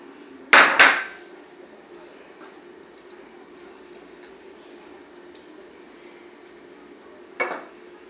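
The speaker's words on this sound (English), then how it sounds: "give it a little stir, and then I'm gonna add my green peas" A metal utensil knocks twice sharply against a pan while shrimp pasta is stirred, then a quiet low simmer continues, with one more clank near the end; close and alone.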